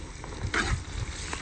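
Chili peppers sizzle and crackle in hot oil in a wok, a steady close frying hiss with a brief louder burst as they are stirred.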